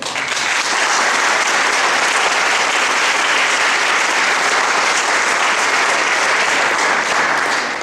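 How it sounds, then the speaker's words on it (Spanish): Loud, steady applause from a large audience welcoming a guest on stage for a talk about the Gaza conflict, dense clapping sustained evenly for about eight seconds with no break. "un fuerte aplauso al Señor"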